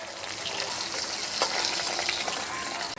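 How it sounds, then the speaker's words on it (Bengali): Fish frying in hot oil, a steady dense sizzle with crackling pops that holds close and loud throughout, with light stirring scrapes and no voices. "সবগুলো মাছ ভেজে নিয়েছি, খুব সুন্দর করে কিন্তু লাল করে ভেজে নিয়েছি"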